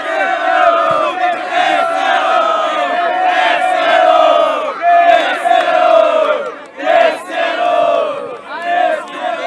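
A crowd at the Batalha do Tanque rap battle cheers and shouts loudly to vote for a rapper. The roar is dense and sustained, surging in waves that dip briefly before rising again.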